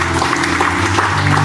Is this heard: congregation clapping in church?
yes